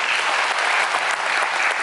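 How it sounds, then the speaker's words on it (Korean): An audience in the large theater hall of Namhansanseong Art Hall claps in a dense, loud, continuous round of applause after a performance, with no talk over it. "박수 한번 다시 한번."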